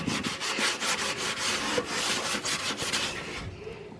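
A cloth or scrubber rubs a vinegar-treated toilet clean, making close, steady scrubbing strokes in a quick repeating rhythm for several seconds before easing off.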